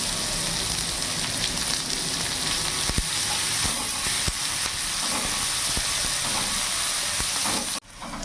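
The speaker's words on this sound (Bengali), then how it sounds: "ফোড়নে কালো জিরে দিয়ে দিলাম, তার সাথে একটা বড় সাইজের পেঁয়াজ কুচি দিয়ে দিলাম" Black cumin and a large chopped onion frying in hot oil, a loud, continuous close-up sizzle with faint stirring clicks throughout.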